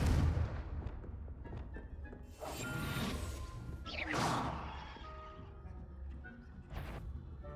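A Confringo blasting spell goes off in a Harry Potter-style video game, a loud burst with rumbling crackle and whooshing debris, followed by further booming impacts over a busy game soundscape.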